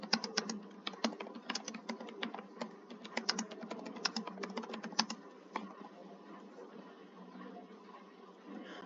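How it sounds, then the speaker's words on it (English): Quick bursts of keystrokes clatter on a computer keyboard, close and fairly quiet, in irregular clusters for about five seconds before thinning into sparse taps. "Let me type."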